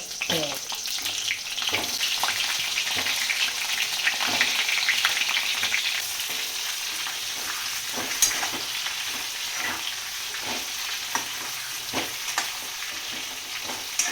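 Stuffed brinjals sauté in a hot pan with a steady, close sizzle and crackle, broken by occasional clinks and stirring knocks, with no talking over it.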